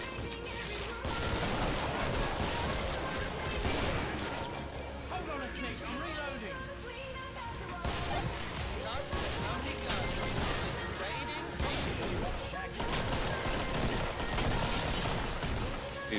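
Gunfire in a video game during a livestream, a lever-action rifle among the weapons; scattered shots and crashes mixed with game noise under frequent overlapping talk.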